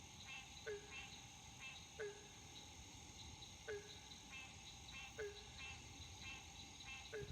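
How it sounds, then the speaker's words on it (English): A banjo frog calls in repeated single plucked twangs spaced a second or two apart, fairly faint, over a steady hiss of insects and night background. "the nickname of it anyway, is the banjo frog, because its call sounds like you're plucking the string of an out-of-tune banjo"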